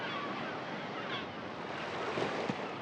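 Steady wash of surf on the Black Sea coast, waves breaking in a continuous soft roar with some wind buffeting.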